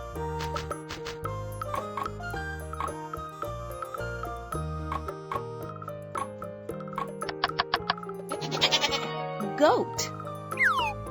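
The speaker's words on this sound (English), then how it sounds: "Goat." A goat bleats in a few wavering calls, close and clear, set over an upbeat musical backing with jingling accents.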